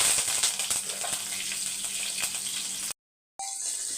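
Cumin, fennel, green chillies and curry leaves sizzle steadily in hot oil for festival cooking, a continuous bright frying hiss that cuts out briefly, then resumes quieter.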